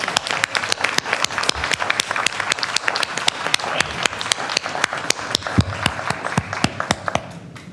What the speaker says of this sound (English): Let's give Mona a big round of applause.